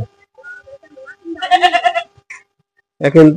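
A goat awaiting a PPR vaccine injection bleats close by, a few wavering cries, one long and one short, with quiet gaps between them.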